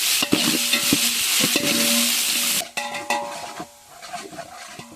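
Onions dropped into hot oil with whole spices in a pan for village-style fish biryani, a loud steady sizzle with stirring clatter, the frying settling quieter toward the end.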